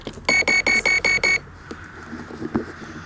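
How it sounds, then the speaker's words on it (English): RC boat electronics, fitted to a Genesis carbon fibre boat, emit six loud, evenly spaced electronic beeps in a quick row, one for each LiPo cell, then go quiet with low handling noise behind. "It'll beep 6 times for 6 lipos"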